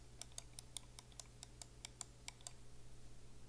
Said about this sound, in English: These have normal sounding clicks.